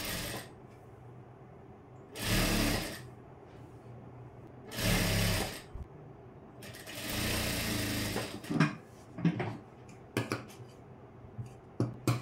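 Three short bursts of a home sewing machine running an edge seam on a blouse, each a couple of seconds of rapid whirring stitching, followed by clicks and small handling noises.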